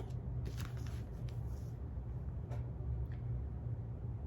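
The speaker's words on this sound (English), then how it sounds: "you can use your rotary cutter to do the whole thing, which is actually a lot faster" A rotary cutter slices fabric while sewing baby leggings, producing a few quick, faint rolling swishes and soft clicks, close and quiet over a low steady hum, with no talking.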